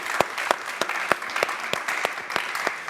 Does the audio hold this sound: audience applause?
yes